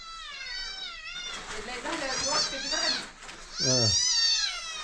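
Several cats meow close by in drawn-out, wavering cries, first overlapping and then in a louder burst near the end, with a person's voice mixed in among them.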